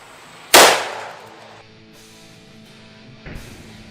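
Single sharp gunshot from a compact pistol firing a 95 grain 7.5 FK round through a swapped 7.5 barrel, a loud close crack with a decaying tail, followed by a fainter knock near the end.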